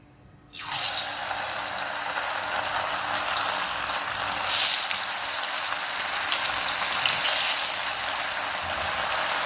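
Nethili (anchovy) fish, marinated twenty minutes, dropped into hot oil and frying, a sudden loud, steady hiss and crackle that starts abruptly and continues strongly throughout with no talking.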